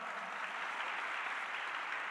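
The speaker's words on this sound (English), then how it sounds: "I think a big round of applause for her." Steady applause from a crowd, dense even clapping that holds at a constant level throughout, with no talking over it.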